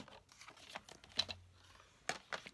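A sheet of cardstock is cut close to the edge, giving a quiet series of short crisp snips and crinkles with uneven pauses between them.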